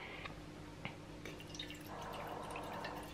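A thin stream of water trickles and drips into a bread machine pan, quiet and close, with a soft steady pour filling in toward the end.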